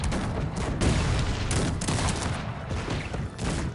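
Continuous gunfire from massed musket volleys and cannon in a Cossacks 3 multiplayer battle, a dense, unbroken fusillade of overlapping crackling shots with heavy booms, loud and steady throughout with no talk.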